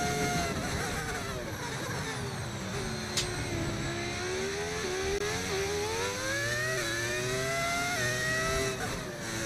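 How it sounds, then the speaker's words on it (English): An F1 car engine screams through the Monaco tunnel in the F1 25 game, a loud sustained high-revving whine that rises and falls with brief gear shifts, close and continuous. "The engine sounds really good going through the tunnel."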